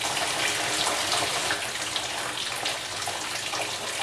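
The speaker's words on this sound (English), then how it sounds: "My sinks are draining down." Water steadily drains from bathroom sinks with plastic traps loosened, a continuous close rushing, gurgling wash that stays even throughout.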